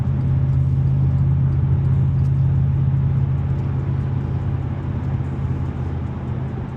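A Cadillac CTS-V fitted with an aftermarket full exhaust cruises with its exhaust valves closed, giving a steady, muffled low engine drone and road rumble heard from inside the car.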